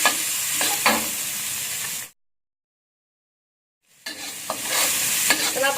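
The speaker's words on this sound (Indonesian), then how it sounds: "Nah, saya aduk rata sampai bawang bombaynya itu layu ya." Onion and garlic sautéing in a pan, a crisp sizzle broken by stirring scrapes, cut off by a two-second silence before the frying and stirring resume.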